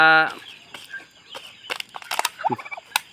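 Young turkeys in a heated brooding pen give soft, scattered chirps and peeps, near and fairly faint, after a brief loud tone at the start.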